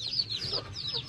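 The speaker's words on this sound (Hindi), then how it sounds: "मुर्गा है, दो मुर्गियाँ हैं।" Shamo rooster and two hens cluck softly and repeatedly at close range, with short high chirping calls rising and falling over a low background rumble.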